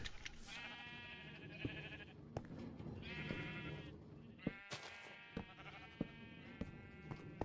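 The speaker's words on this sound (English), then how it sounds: "now the sheep, their wool is growing back" Several sheep bleat in the Minecraft video game, repeated wavering calls in a loose sequence, fairly quiet and close, with faint small clicks between them and no talk.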